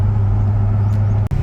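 Modified LS V8 engine in a ute with a two-track, 3.73 gears and a Harrop diff cover, idling with a steady deep rumble up close, loud and alone.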